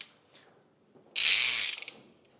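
A Harken Safety and Rescue Wingman ratchet clutch gives one loud, fast, buzzing ratchet whir of about half a second as it lifts, set between quieter handling noises.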